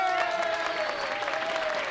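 Audience clapping in a theatre during a 1980 radio drama, a steady dense patter of applause with a sustained musical tone running beneath it throughout.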